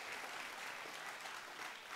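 A church congregation applauds, a dense, even patter of many hands clapping throughout, moderately distant and without pauses.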